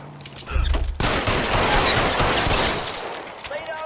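Sustained rapid gunfire from a horror video game, a dense continuous burst of shots after a short low rumble, loud and close, with a voice partly audible underneath.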